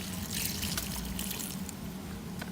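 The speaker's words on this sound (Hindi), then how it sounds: "और ये हम फिर इसमें आज 1 लोटा पानी डाल रहे हैं।" Water poured from a lota, a round metal water pot, onto a growing plant, a steady close splashing and trickling wash with brighter drips toward the end, no talking.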